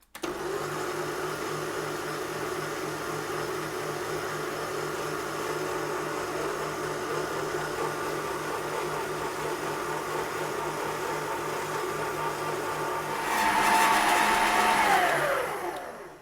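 A food mixer kneads bread dough for Dutch crunch tiger bread on a middle setting, a steady motor whir with a rhythmic low churning that holds level throughout, then grows louder and harsher near the end.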